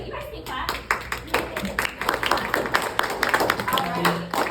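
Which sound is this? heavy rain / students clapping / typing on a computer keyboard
students clapping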